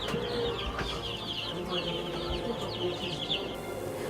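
Chickens on a poultry farm of about 5,000 birds keep up a dense, constant clucking and chirping, with overlapping calls filling the background.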